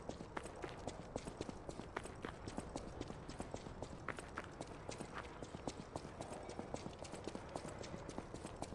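Steady horse hooves clip-clop in a quick, even rhythm in the video game Lies of P, faint and close-miked against a soft background hiss, with no talking.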